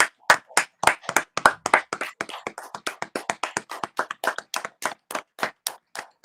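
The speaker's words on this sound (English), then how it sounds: "Everyone's clapping." Neighbours clapping outdoors for the NHS, a steady run of sharp hand claps at a brisk even rhythm, fairly close and loud, continuing without pause and with no talk over them.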